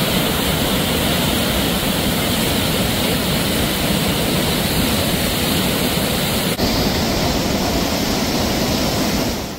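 Floodwater of the Indrayani river at Alandi rushes after heavy rain in Maval taluka, a loud, unbroken roar of churning water that fills the whole stretch at a constant level.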